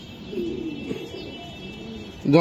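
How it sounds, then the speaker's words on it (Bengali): A racing pigeon from a popular Bangladeshi club coos softly in a few low, rolling calls, close by, followed by a brief louder flutter-like burst at the end. "এটা বর্তমানে বাংলাদেশের সবচেয়ে একটা জনপ্রিয় ক্লাবের কবুতর"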